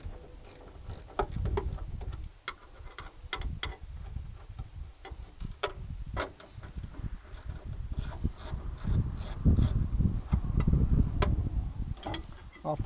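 Bolts being loosened and removed from the transmission cover of a 1943 Willys MB, a close, irregular series of ratchet clicks and metallic ticks with soft handling noises between.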